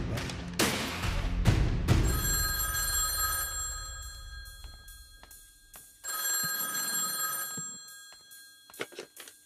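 A telephone bell rings in loud repeated bursts, with thumps and a crash at the start and a pause between ringing spells; there is no talk.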